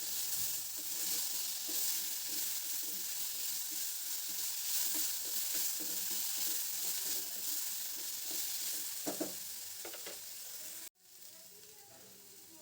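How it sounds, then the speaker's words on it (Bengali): Quiet, steady sizzle of onion and ginger paste frying in a pan with potatoes and broccoli, with faint stirring scrapes near the end and a brief drop in the hiss. "এবার এর মধ্যে পেঁয়াজ আর আদা বাটাটা ছিল ওটা দিয়ে দেব"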